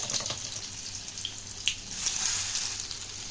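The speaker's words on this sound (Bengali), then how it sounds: "তো পটলগুলো আগে আমি ভেজে নেব তেল গরম হয়ে গেছে দিয়ে দিচ্ছি পটলগুলো" Pointed gourd (potol) pieces fry in hot oil, making a soft, continuous sizzle and crackle at moderate volume with no voices.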